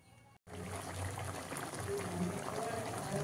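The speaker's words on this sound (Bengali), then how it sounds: "এবার খানিকক্ষণ ফুটবে, গুড়টা গলে যাবে আর চালতাটা মিষ্টি হয়ে যাবে" Chalta (elephant apple) pickle with jaggery simmering in a covered wok, a steady close bubbling hiss that starts abruptly after a brief pause and continues evenly, with a voice talking over it.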